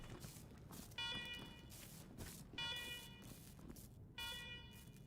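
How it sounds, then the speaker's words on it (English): An electronic alarm blares in the video game Wasteland 3, three repeated pulsing tonal bursts about every second and a half, fairly quiet over a low background rumble. "Alarm, alarm, alarm, fire alarm."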